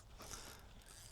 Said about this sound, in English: That's the sound of the drag.